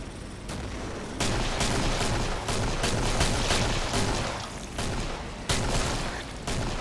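Rapid automatic gunfire rattles through a Killing Floor match, sustained and loud for several seconds with brief gaps and a few sharper bursts, no voices over it.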